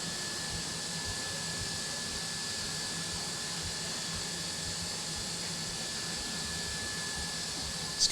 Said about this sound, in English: Blowing off the part again.